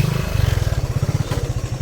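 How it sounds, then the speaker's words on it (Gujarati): A motorbike pulls up nearby, its engine putting out a steady, loud pulsing idle with a light clatter and scrape mixed in, no voices over it. "તો ચલો હવે આપણે બાઇક આવી ગઈ છે"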